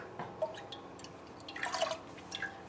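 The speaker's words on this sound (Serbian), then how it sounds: "Ovo mleko sipat ćemo ovde, ali ostavit ćemo malo i ovde kako bi razmutili puding" Milk trickles and drips into a pot while filling for a Mađarica cake pudding, a light, irregular series of close splashes and drops, quiet and without talk.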